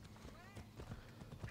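A horse's hooves clip-clop at a steady trot in Assassin's Creed Odyssey, moderately close and mixed with ongoing talk over the top.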